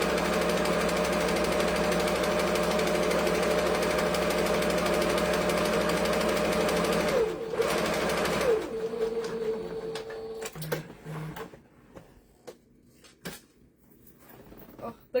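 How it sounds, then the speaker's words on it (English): A slow domestic sewing machine runs with a steady rapid mechanical whirr, then stops. After that come scattered clicks and small handling noises in a quiet room. "it's not very exciting because my sewing machine is"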